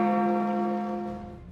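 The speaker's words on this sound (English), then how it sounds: "But as the clock bell tolls," A clock bell tolls in an animated Disney film, one resonant strike with rich ringing overtones that slowly decay, loud and alone without talk.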